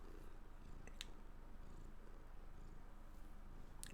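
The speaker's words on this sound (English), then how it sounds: "Why is your cat like that? It's a Sphinx cat." A Sphynx cat purrs in a low, rhythmic rumble close to the microphone, faint and continuous, with a few small clicks over it. No one speaks.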